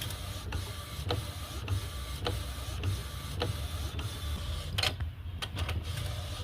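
A modified Epson L18050 DTF printer prints steadily, its print head shuttling back and forth in a regular rhythm of soft clicks and sweeps over a constant low motor hum, heard alone and fairly close.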